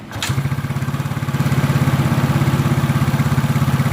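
A motorcycle engine starts with a sharp burst and settles into a steady, loud idle with a rapid, even chugging rhythm, running somewhat high and rough after an idle-speed adjustment, close by with no talk.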